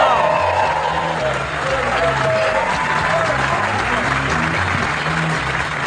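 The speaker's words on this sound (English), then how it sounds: "Please, a big rousing round of applause for Mr." A comedy club audience greets a comic with loud, sustained applause and some cheering, a thick continuous roar of clapping with voices mixed in.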